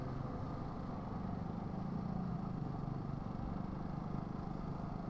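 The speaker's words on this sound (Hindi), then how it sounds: "अभी चलते हैं, बाइक स्टार्ट करते हैं पहले" A motorcycle engine runs steadily throughout, a continuous low rumble close by with no talk over it, as a rider prepares to push off and engage the clutch.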